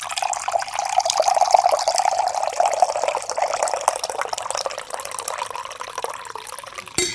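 Onyx coffee poured into a cup on a porch, a steady close liquid stream with a rising filling tone for about seven seconds, ending abruptly.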